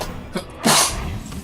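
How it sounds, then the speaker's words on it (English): A single loud sneeze bursts out close to the microphone, with a short intake of breath just before it, from someone playing the card game Hearthstone. "I'm going to have to sneeze"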